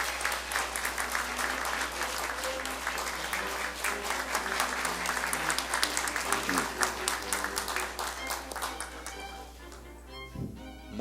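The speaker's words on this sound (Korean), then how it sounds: "모두 큰 박수로 축하해 주시기 바랍니다." An audience at a university graduation ceremony gives sustained applause, a steady wash of many hands clapping with a low hum beneath, thinning toward the end as some voices come through.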